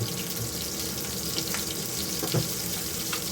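Green chillies frying in a pan give a steady, close hiss with faint crackle, a few small clatters rising briefly above the sizzle.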